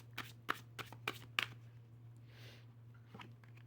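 Tarot cards are shuffled by hand in several short, crisp riffling bursts, close and quiet, over a low steady hum.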